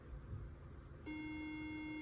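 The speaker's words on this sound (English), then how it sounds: "time to make a machine beep at me" A steady electronic beep tone from a 2009 Mac Pro computer starts partway through and holds continuously to the end, over a low background hum.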